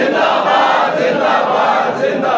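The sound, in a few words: crowd chanting slogan Tajdar-e-Khatm-e-Nabuwwat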